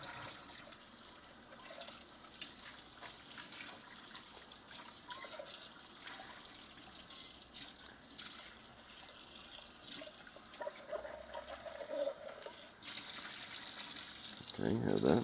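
Water from a tap runs steadily into a dirty pot with cheese stuck to it as it is rinsed, splashing close by and swelling to a louder gush near the end.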